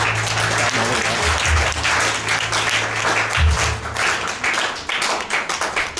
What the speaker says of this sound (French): On acclame pour cette parole.